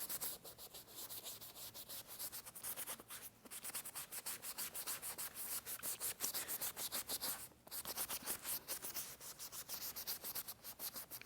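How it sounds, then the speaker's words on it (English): Steady rhythmic rubbing as alcohol is scrubbed over a face painting practice tool to remove purple face paint, close and continuous with brief pauses between strokes. "I'm going to scrub the purples down too"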